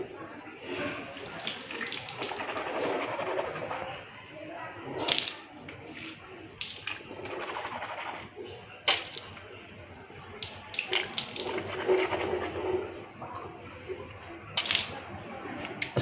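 Tap water running into a sink during wudu, with splashing and gurgling as the mouth is rinsed, the flow broken by sharper knocks and clinks of handling close by.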